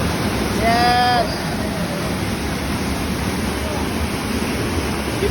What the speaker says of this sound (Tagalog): Dito na kami sa Niagara Falls!